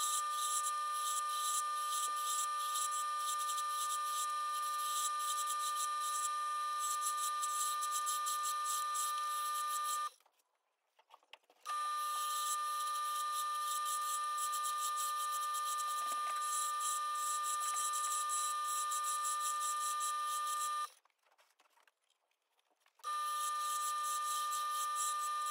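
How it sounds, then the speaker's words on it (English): A steady high-pitched scraping hum of a chisel cutting a wooden slimline pen blank on a spinning lathe, broken by two brief pauses of near silence. "make sure the cutting edge of the chisel is making contact with the wood at its center"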